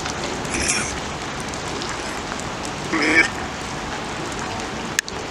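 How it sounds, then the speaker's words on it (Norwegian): Steady hiss of rain falling on a surface throughout, with a brief louder rustle and a sharp click near the end. "Det regnar ju."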